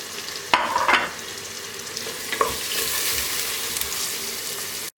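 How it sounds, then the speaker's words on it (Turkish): Chopped onions and carrots sautéing in oil for Turkish sour meatball soup. A close, steady sizzle runs under a couple of clattering stirs early on, then cuts off abruptly at the end. "soğanlar çok az kavrulduktan sonra hemen havuçları da ilave edip beraberinde kavuracağım"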